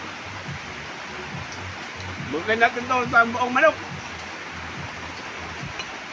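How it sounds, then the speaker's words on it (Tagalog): Steady heavy rain hisses throughout with a constant broadband wash, while a person speaks briefly in the middle. "Hindi makapagpigil sa atin yung ulan at saka kulog."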